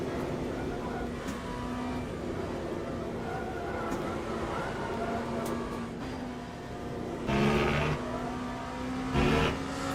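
Race car engine in the video game Le Mans Ultimate at Le Mans, a steady droning engine note through the bends with a couple of louder revving bursts near the end, no talk heard.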